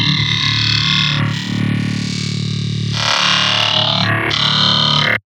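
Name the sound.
synthesizer wavetable being scrubbed through with distortion effects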